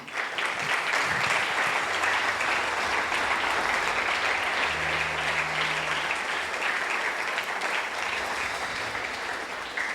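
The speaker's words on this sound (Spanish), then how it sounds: "¿Le quieres dar un aplauso al Señor?" A church congregation applauds the Lord together, sustained dense clapping filling the room for several seconds, with a low hum underneath.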